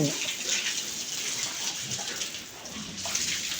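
Water sprays and splashes steadily while a pig pen is washed down, a dense continuous rushing hiss at close range, with no clear talk over it.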